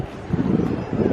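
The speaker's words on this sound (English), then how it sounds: "Man, it is windy back here." Gusty outdoor wind buffets the microphone at San Diego Comic-Con, a brief burst of low, rushing noise with no speech.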